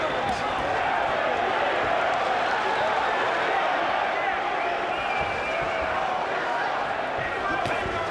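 A big boxing crowd roars steadily at Yankee Stadium during a Miguel Cotto title fight, a loud continuous wash of cheering and chatter with no break.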